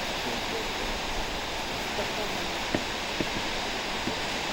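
Sipi Falls produces a steady, broad roar of falling water with no pauses, heard alone with a few faint clicks.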